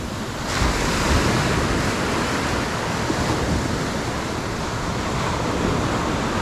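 Surf and steady wind on a fishing beach make a continuous broadband roar, loud and close, with no speech and no distinct breaks between waves.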